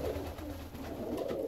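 Fancy ornamental pigeons coo close by, a low, continuous murmur of overlapping soft calls with no talking.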